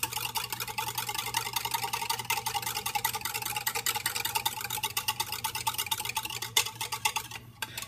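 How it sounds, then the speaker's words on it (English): A spoon stirs coffee granules in a mug with a steady, rapid rhythmic clinking and swishing that runs close and continuous throughout, then briefly stops near the end. "those little coffee granules will take a minute to dissolve, and we're gonna keep stirring"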